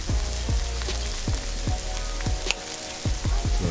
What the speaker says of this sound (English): you know we got rain on it